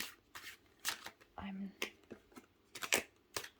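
A standard tarot deck is shuffled by hand in a run of quick riffles and crisp card slaps, irregular bursts close to the microphone with brief pauses between them, and a low hum in one short stretch.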